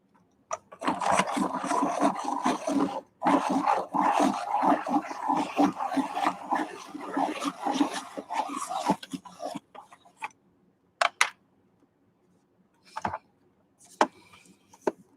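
Electric pencil sharpener grinding coloured pencils: a run of loud, close, buzzing grinding for about nine seconds, then a few short isolated bursts with quiet gaps between.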